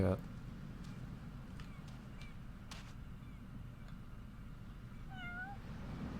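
A cartoonish cat in the video game Go Vacation gives a couple of short rising meows near the end, faint against quiet game background ambience.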